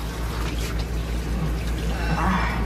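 Water poured onto a long-coated Shih Tzu's coat during a bath: a steady, close pouring and splashing wash over a low constant hum.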